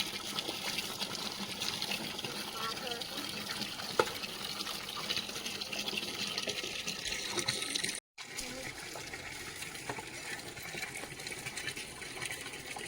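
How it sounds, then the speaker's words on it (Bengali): Water trickles and splashes steadily onto old, dry bricks that soak it up as it is poured, a continuous close wet patter with a brief break partway through. "জল দিচ্ছি সাথে সাথে আমার টেনে নিচ্ছে"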